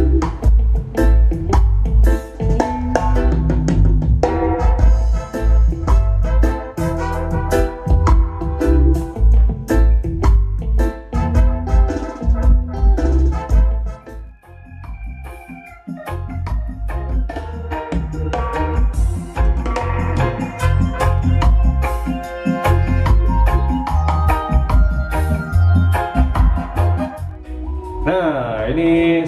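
Music played loud through an Ashley Pro Diva 1000 amplifier driving Nakamichi speakers with a 12-inch Nakamichi subwoofer, a dense mix with heavy bass and a steady beat, dropping briefly to a quieter passage midway before building back up.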